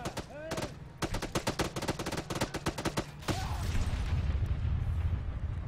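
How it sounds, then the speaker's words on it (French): Rapid, closely spaced gunshots ring out in bursts at a vehicle during a police training exercise, loud sharp cracks followed by a rumbling, noisy tail; voices can be heard faintly. "Si vous arrêtez pas, on tire sur le véhicule."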